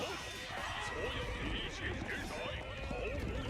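Horses neigh and whinny amid a strategy video game battle, with hoof clip-clop and clashing combat noise running continuously underneath; voices murmur faintly in the background.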